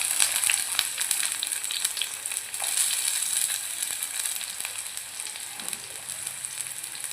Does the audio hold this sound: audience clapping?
no